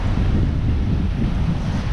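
Strong wind roars and buffets the microphone over steady surf at Bulabog Beach in Boracay, a kite-surfing spot, loud and continuous with no voices.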